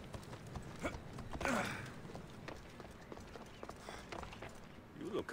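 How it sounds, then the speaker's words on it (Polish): Horse hooves clop and thud across ground in the Assassin's Creed Odyssey video game, mixed with game ambience and a brief louder scuffle partway through. "Co ten koń robi?"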